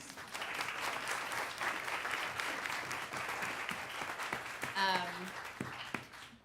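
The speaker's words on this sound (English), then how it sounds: "Please, a round of applause" Steady applause from an audience at a live women-in-jazz talk at Jazz St. Louis, dense clapping throughout with a brief voice cutting in near the end.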